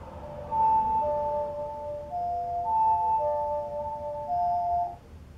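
A short, pure-toned ocarina melody in Majora's Mask 3D plays a few sustained and stepping notes over faint background noise, fairly soft.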